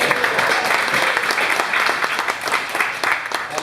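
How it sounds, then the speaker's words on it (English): A live audience at a chef talk about grilling and fire gives a round of applause, a loud, close wash of many hands clapping with some sharper individual claps standing out. "Having a big round of applause for all of you"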